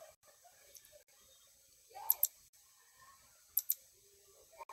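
A few sharp, quiet mouse clicks on a Chromebook, coming singly and in quick pairs against near silence.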